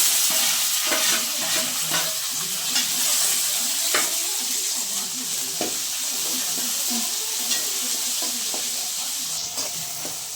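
Gooseberries sauté and sizzle in a pan for a chutney, a steady frying hiss broken by repeated scraping clicks of a spoon stirring, close and prominent with no talk.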